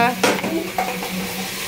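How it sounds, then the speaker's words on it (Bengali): Rice being stirred with ghee in a cooking pot, a spoon scraping and clinking against the metal in a few quick strokes over a faint sizzle, close and fairly loud. "এখন নাড়াচাড়া করবো, তারপরে পানি দিব"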